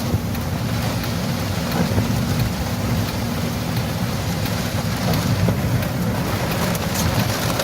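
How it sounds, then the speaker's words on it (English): Steady heavy rain pours in the aftermath of Hurricane Melissa on San Salvador, a dense, continuous hiss with a low rumbling undertone of wind throughout, no voices. "Presently, it is still raining."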